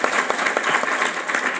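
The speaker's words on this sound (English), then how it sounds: "That's something to clap about." Applause from an audience at an Arbonne business meeting in Nashville, dense steady clapping filling the room across the short stretch without a break.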